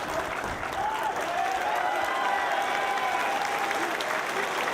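Wrestling crowd in Dayton cheering and applauding steadily throughout a title match, a dense sustained roar of clapping and voices with faint shouts rising above it.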